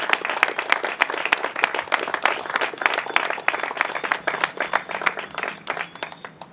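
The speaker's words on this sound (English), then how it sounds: "could we get a huge round of applause for the Elks, Falmouth Elks, for hosting us tonight," An audience at a Falmouth Elks lodge event for a motorcycle brotherhood ride claps in a dense, steady round of applause from many hands, fairly close, that gradually thins toward the end.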